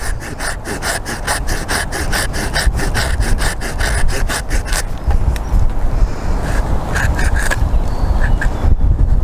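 Hand saw cutting through a tree branch on an allotment, a steady back-and-forth rasp of strokes for about five seconds, then rougher, more irregular sawing continuing close and loud to the end, with no talk.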